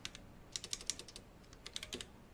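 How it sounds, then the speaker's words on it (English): Computer keyboard typing while entering a name on a website form, a quiet run of light, irregular key clicks in two bursts with a short pause between them, no voices. "I'm typing your name in on the website submission"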